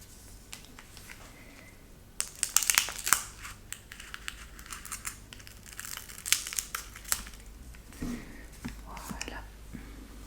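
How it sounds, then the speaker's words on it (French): Crinkling plastic wrapper of a Lorcana trading-card booster pack and sharp snips of scissors cutting it close up, with quiet whispered speech over the rustling. "je vais prendre ma paire de ciseaux"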